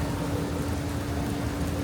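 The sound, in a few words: rain falling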